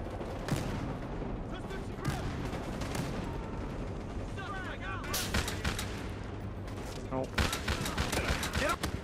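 Gunfire in the video game Battlefield Hardline, with bursts of rapid automatic shots and scattered single shots crackling throughout, under someone talking continuously.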